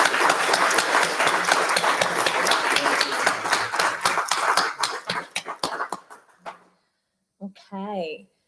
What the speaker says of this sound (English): let's just give Steve another round of applause.